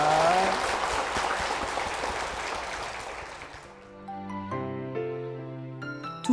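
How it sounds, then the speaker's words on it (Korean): Audience applause in a church service fills the room, dense and steady clapping that fades out after a few seconds as soft piano notes take over. "우리 힘찬 박수 부탁드리겠습니다"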